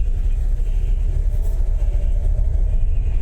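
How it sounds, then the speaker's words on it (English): A train passes near Bathgate Market, heard as a loud, continuous low rumble without clear breaks, with no talk. "Oh, there's a train."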